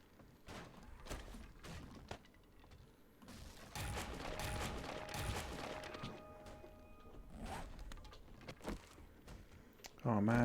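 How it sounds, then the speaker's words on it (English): Gunfire in the video game 7 Days to Die, a string of sharp shots and thumps scattered across the clip, with a denser burst in the middle and game sounds around them. "I thought that was actually an AK-47."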